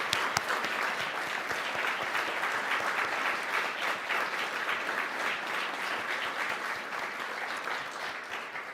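Sustained audience applause at a business and technology event, a dense, steady wash of many hands clapping at even loudness throughout, with no speech over it.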